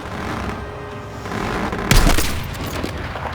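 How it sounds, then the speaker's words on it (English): Gunfire in the shooter Battlefield 6 rattles over a rumbling game background, with a sharp loud blast near the middle followed by scattered shots trailing off. "No matter what gun you have in your hands, a pistol, LMG, automatic rifle, it doesn't matter. When you shoot it,"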